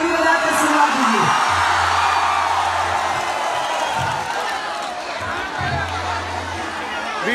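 Large crowd at a live Bhojpuri stage show in Kolkata, a loud, sustained roar of cheering, whoops and clapping filling the whole stretch without a break.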